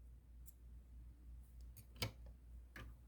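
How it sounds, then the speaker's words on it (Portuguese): Scissors snip through green yarn during amigurumi crochet work, a few quiet, sharp clicks with one clearer cut standing out over a low steady hum. "vou cortar a cor verde"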